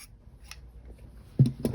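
Yarn tails on a crocheted puff stitch piece being trimmed with scissors: a quiet room, then two crisp close snips near the end.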